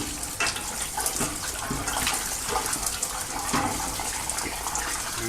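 A water wand sprays inside a steam boiler during a washout, producing a steady, close hiss of gushing water with splashing bursts throughout.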